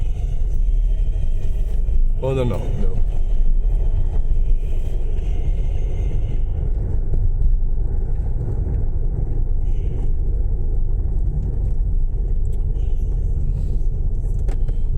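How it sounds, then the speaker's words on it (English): A truck on a road passes near traffic lights as a sustained low rumble of engine and tyres, heard from inside a vehicle with a brief voice exchanged partway through. "There is a truck coming."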